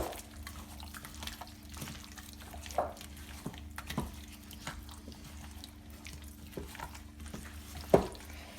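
Chicken marinade being mixed with spices and ginger garlic paste, soft wet squelching and light scraping strokes at an irregular pace over a low steady hum, close and fairly quiet.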